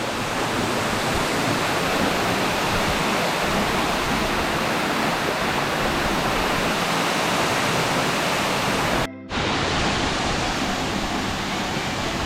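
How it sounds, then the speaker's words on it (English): A waterfall on a Hawaiian hiking trail pours with a loud, continuous broadband rush close by, briefly cut out for an instant before resuming unchanged. "So took a little bit of a detour here and found a waterfall."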